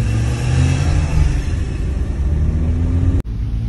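A Renault Megane GT pulls away with a steady, loud engine rumble that rises slightly as it accelerates, ending with a brief cut near the end; no one speaks.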